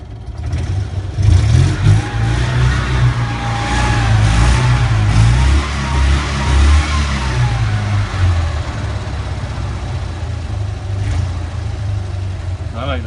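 A car engine in a hafi build is started, then rumbles and revs with rising and falling pitch before settling toward a rough idle, close and steady throughout.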